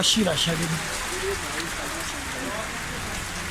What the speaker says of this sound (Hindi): तूफानी बारिश है, बहुत ज़्यादा ओले पड़ रहे हैं